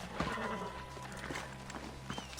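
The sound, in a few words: horse in Red Dead Redemption video game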